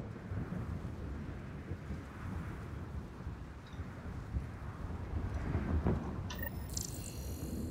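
Thunderstorm on a radiation-contaminated planet in Mass Effect Andromeda: a steady, loud wash of rain and wind with deep low rumbles of thunder building throughout, and a brighter crackling burst near the end.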